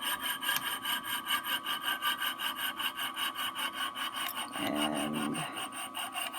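A saw rasps back and forth through metal flatware being cut for crafts and jewelry, in steady rhythmic strokes close up, with a brief word spoken near the end.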